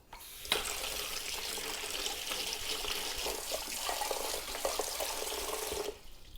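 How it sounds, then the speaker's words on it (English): Cold tap water runs steadily over tomato seeds in a sieve, a continuous close hiss and splash lasting several seconds before stopping abruptly. "you're just running them under cold water, and you're trying to push it around the sieve with a spoon"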